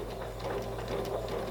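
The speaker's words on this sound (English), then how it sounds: "I'm going to sew a little bit" Sewing machine running in short stitching bursts through fabric while sewing improv quilt curves, a steady close mechanical whir with a low motor hum throughout.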